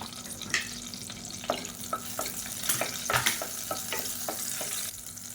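Slit green chilies frying in hot oil inside a pressure cooker, a faint steady sizzle broken by scattered soft pops and clinks of stirring, with no voices.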